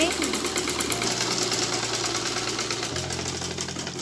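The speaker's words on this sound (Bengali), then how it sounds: "এই পাশে কিন্তু হাতা এভাবে সেলাই করে নিতে হবে" A sewing machine runs steadily, stitching the sleeve of a panjabi, a close, continuous mechanical whir with a rapid rhythmic knocking throughout.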